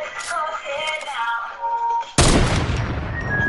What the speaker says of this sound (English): Fire the hunting rifle now